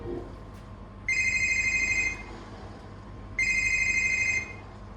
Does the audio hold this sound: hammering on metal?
no